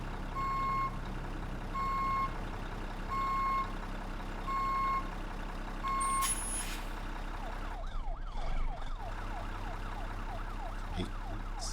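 A 300hp Mack R truck in American Truck Simulator idles with a low, steady engine drone under a run of evenly spaced reversing beeps, then the beeping stops and shifting mechanical clatter follows.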